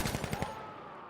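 Quick burst of AK rifle fire in a first-person shooter video game: about five sharp, evenly spaced shots packed into the first half-second, then a fading echo tail with no voices.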